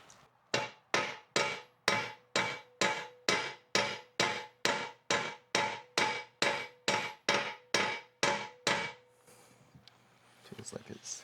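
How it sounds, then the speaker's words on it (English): A hammer strikes a metal shaft to drive out a bearing, about twenty evenly spaced sharp metallic taps in a steady rhythm, close and clear, then a brief pause and some faint handling noise. "Just give that shaft a couple light taps with that hammer"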